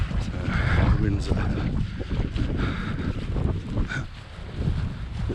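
Wind moving through open windows inside an abandoned mock Tudor mansion, a low, rumbling, buffeting gusty noise that swells and eases throughout, close and fairly loud.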